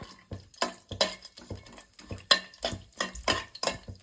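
Whole spices for vegetable pulav are sautéed in a pan, with quick, rhythmic spatula scrapes and light clinks about twice a second, close and alone without speech.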